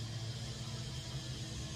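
A grain dryer runs steadily in the background during a corn harvest, a continuous low mechanical hum and rumble that holds even and unchanging with no voices.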